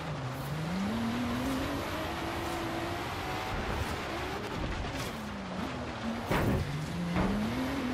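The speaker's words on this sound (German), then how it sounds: "Der geht ziemlich viel quer hier, der Volvo." A Volvo family car with an off-road setup drifts sideways in Forza Horizon 3, its engine droning steadily with rising and falling pitch and brief louder bursts near the end, with no voices.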